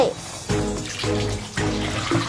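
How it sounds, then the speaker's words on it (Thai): Boiled water is poured into a prepared container in three or four separate bursts, each a close, loud splashing gush with short pauses between, and no talking. "เทน้ำต้มสุก1 ส่วนลงในภาชนะที่เราเตรียมไว้"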